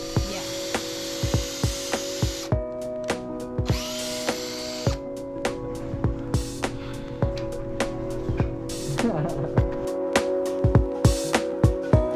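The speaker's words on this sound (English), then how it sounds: "It's our pocket hole system, and it drills horizontal." Pocket hole jig drilling diagonally into wood, a corded power drill whining in repeated short bursts with sharp bit-biting clicks, close and loud, no talking, during a subfloor install in a 2015 Ford Transit high roof van.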